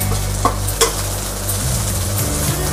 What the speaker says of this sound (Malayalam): അത് മൂക്കുന്നതനുസരിച്ച് മുരിങ്ങയില ഇട്ട് കൊടുക്കാം. എല്ലാം കൂടെ നമുക്കൊന്ന് മുരിച്ചെടുക്കാം.